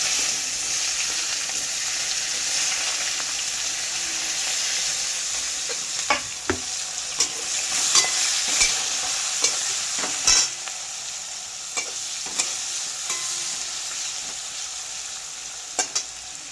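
Chopped onions frying in oil with cumin seeds and a bay leaf, a steady close sizzle with occasional sharp clicks and scrapes of stirring.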